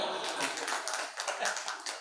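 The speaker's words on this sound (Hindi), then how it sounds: "ताली बजाओ" Scattered clapping from an audience at a Hindi poetry recital, fairly quiet and uneven, with a voice speaking over it.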